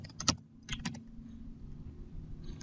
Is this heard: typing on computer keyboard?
yes